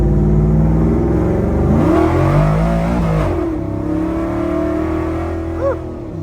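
A 1971 Ford F100 XLT Ranger heavy-duty pickup accelerates onto a highway as heard from inside the cab, a steady loud engine drone and exhaust rumble with the pitch climbing through a kick-down shift, continuous with no speech.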